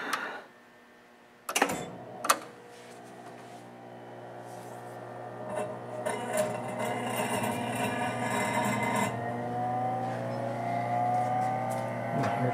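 A Sorvall RC-5C refrigerated superspeed centrifuge starts up: a couple of sharp clicks, then a steady motor hum with layered tones that climb gradually in pitch as it spins faster.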